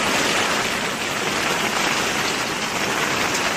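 Heavy rain pours down steadily, a dense even hiss of drops hitting surfaces close by, with no voices.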